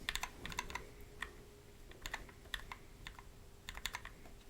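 Typing on a Boardwalk keyboard fitted with GMK Calm Depths keycaps gives quick clusters of crisp, close keystrokes separated by brief pauses, fairly quiet, with no talking.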